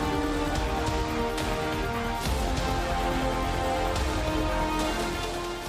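Monsoon rain falls on Gujarat in a steady, even wash of drops striking surfaces, a continuous hiss with faint patters that holds level throughout.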